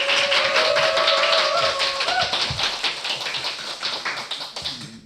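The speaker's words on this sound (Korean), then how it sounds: "몇 분 안 계시는데 이렇게 박수를 쳐주시니까 천군만마를 얻은 기분이네요." A small studio audience claps steadily at a public broadcast of a Korean political talk program. The clapping is dense and fairly close, with a brief tonal sound early on, and it thins out and fades toward the end.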